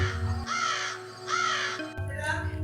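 A crow caws twice in a drawn-out, harsh call at close range, with a fainter third call after a short gap, set against a low steady hum as a sound effect in a Bengali ghost story.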